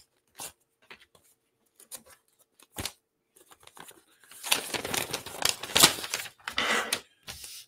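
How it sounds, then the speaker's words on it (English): A plastic package holding a Robart #167VR variable rate control valve gets cut open: scattered soft snips and clicks, then a loud, close burst of crinkling and tearing plastic. "And we'll cut this open so that everybody can see the valve."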